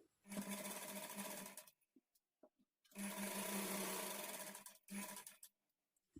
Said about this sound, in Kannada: ಒಂದು ಲೈನನ್ನು ಹಾಕ್ಕೊಂಡು ಲೈನ್ ಮೇಲೇ ಸ್ಟಿಚ್ ಮಾಡ್ಕೊಳ್ತಾ ಬರಬೇಕು